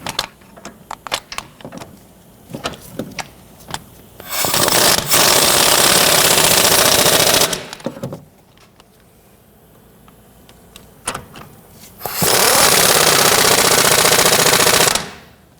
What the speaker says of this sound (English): I'm going to go ahead and snug down the control arm bolts here.